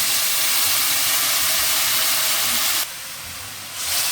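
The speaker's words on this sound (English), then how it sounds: "Now let's add the gravy of the beef pieces." Beef gravy hits a hot pan for a Kerala-style beef curry, setting off a loud, steady hiss of sizzling steam that drops sharply near the end, then swells again.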